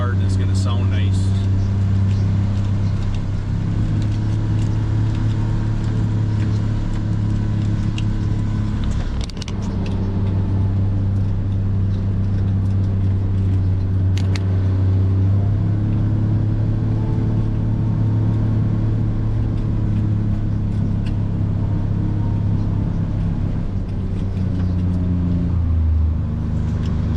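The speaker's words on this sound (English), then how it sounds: "this engine is going to be working really hard and it's going to sound nice" A locomotive engine labors with a steady, loud droning rumble that holds for a long stretch, shifting slightly in pitch.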